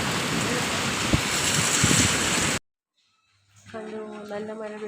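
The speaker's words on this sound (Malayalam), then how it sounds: "നല്ല മഴയാണ്" Heavy rain in Dubai roars as a dense, steady hiss for about two and a half seconds, then cuts off abruptly into silence before a voice begins speaking.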